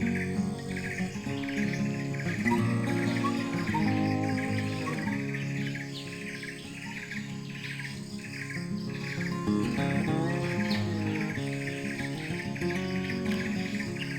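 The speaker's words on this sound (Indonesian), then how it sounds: "Satu lagi burung rangko." Rangko birds calling from a banyan tree, a dense layer of repeated chirps and tweets with a steady insect-like buzz underneath, continuous and fairly close throughout.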